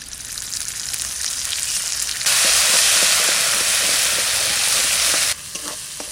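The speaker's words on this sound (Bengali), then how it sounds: "এইবার সামান্য একটু তেল দেবো, শুকনো লঙ্কা, তেজপাতা, জিরে, মশলাটা দিয়ে দিচ্ছি।" Oil sizzles hard in a pan with dry chilli, bay leaf, cumin and spices for a sea para fish curry, a loud steady hiss that swells sharply midway and then drops back with faint stirring taps.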